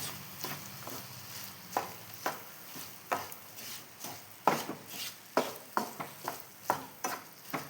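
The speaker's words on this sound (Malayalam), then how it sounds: "വെല്ലം കൂടി നമുക്ക് വഴറ്റിയെടുക്കാം" Jaggery is stirred and sautéed in a pan for a sweet snack: soft, rhythmic scraping strokes about every half second, with a faint sizzle underneath, quiet and close.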